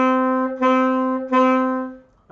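Saxophone in a beginner lesson playing about three short, sustained notes at one steady pitch, each separated by a brief gap and heard alone and close.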